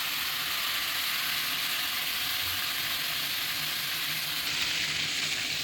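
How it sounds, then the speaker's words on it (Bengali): A spice masala with asafoetida fries in a pan, giving a steady, close, loud sizzle that holds evenly with no talking. "দিয়ে দেখো এটাকে আমি একটু ভেজে নিচ্ছি ভালো করে মশলাটা"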